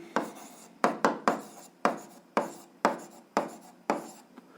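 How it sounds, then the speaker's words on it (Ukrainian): An equation written by hand on paper, a series of about nine sharp, close pen strokes with scratchy tails, irregularly spaced, alone without talk. "записуємо відповідь, пишемо відповідь"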